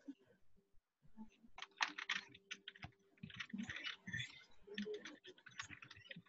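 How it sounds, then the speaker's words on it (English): Someone types on a computer keyboard in a classroom, a quick irregular run of light clicks and taps that continues steadily throughout, fairly quiet, with a faint steady hum underneath. "She's typing."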